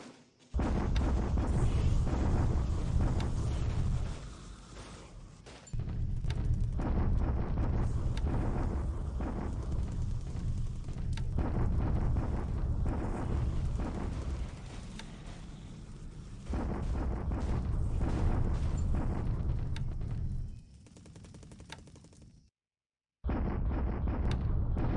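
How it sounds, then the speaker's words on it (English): Bombardment explosions in War in the Pacific – Admiral Edition, a long rolling series of deep booming blasts in sustained rumbling bursts with brief pauses between them, loud and continuous. "For the most part, they're probably going to be just bombardments."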